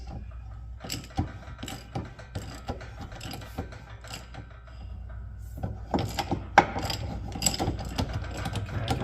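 Socket and wrench turning a pinion nut on a GM 10-bolt differential, forcing the yoke off: a run of sharp metallic ratchet clicks and clunks in bursts, close up, busier and louder toward the end.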